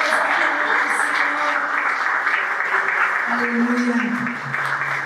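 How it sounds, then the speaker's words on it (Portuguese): A church congregation at a prayer service claps steadily as a bed of applause beneath a voice and sustained background music, loud and continuous throughout. "Você pode aplaudir ao Senhor por isso?"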